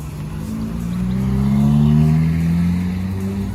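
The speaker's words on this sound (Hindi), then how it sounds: "वो गाड़ी आ रही है, ये वाली गाड़ी रुक गई है" Cars on a road in Australia make a steady engine drone that swells as a vehicle approaches and passes nearby, then slowly fades, with no talking.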